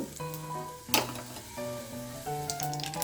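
Mustard seeds, cumin and a pinch of turmeric spluttering in hot oil as a tempering for chapati, with short crackling bursts rising over steady background music.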